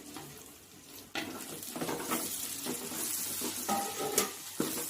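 Ginger-garlic paste sizzles steadily in a pan as tomatoes are tipped in and stirred, a loud sizzle swelling around one second, with scraping and stirring scuffs throughout and no talk.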